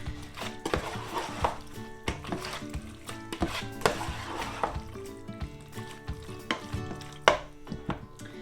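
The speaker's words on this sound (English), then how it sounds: "So we'll just give everything a nice stir." Puttanesca-style tomato sauce being stirred in a pan, a run of sharp clacking utensil knocks against the pan with light wet sloshing between them, close, irregular and fairly busy.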